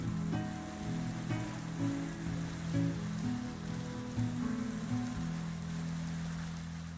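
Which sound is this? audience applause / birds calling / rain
rain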